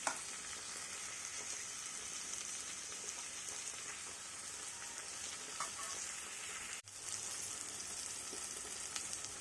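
Onion pieces with turmeric, salt and green chillies sizzle steadily in a pan, a dense continuous frying hiss held close and even, with a brief dip near the end as stirring breaks the sound, no talking over it.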